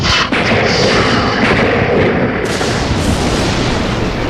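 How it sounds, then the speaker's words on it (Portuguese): Tree bark bursting from a lightning strike, heard as a sharp loud crack and boom followed by a sustained roaring, crackling rumble. "Ele pode passar pela parte interna da casca, vaporizando a seiva e fazendo a casca explodir como uma granada."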